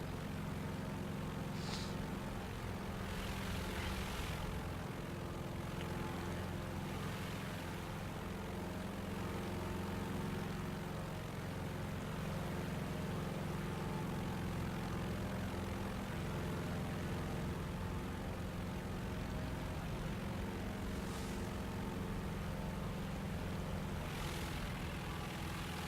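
Propeller aircraft engines in the War Thunder game, a steady droning hum running unbroken throughout, fairly quiet and alone.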